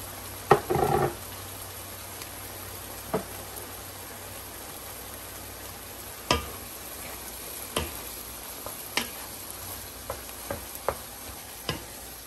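A utensil stirs tomato into shoras and other vegetables stewing in a pan, a steady soft sizzle underneath with a burst of scraping near the start and then a sparse series of separate clinks and scrapes.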